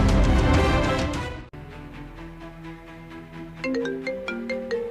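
A phone rings loudly with a melodic tone. A dense burst gives way to a steadier repeating pattern, then a brighter chiming phrase takes over.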